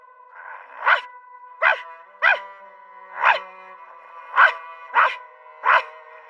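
A demon dog in an anime barks seven times, sharp and close. The barks are spaced at irregular intervals against a near-silent background.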